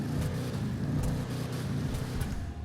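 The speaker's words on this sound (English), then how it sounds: "I quite like the engine sound." A Willard Eudora car engine revs in pulsing surges in a video game, rising and falling several times, loud and close with a synthetic, game-like tone.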